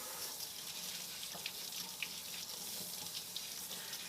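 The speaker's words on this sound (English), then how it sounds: "let's go ahead and rinse this steak off" Tap water running over a salted steak at a sink to rinse it, a steady close hiss of flowing water with faint splashes and patters, no voices.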